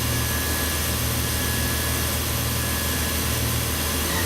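Spindle of a 1995 Fadal VMC4020HT CNC vertical mill running at speed, a steady dense whirring drone with broadband hiss, constant and loud throughout with no voices.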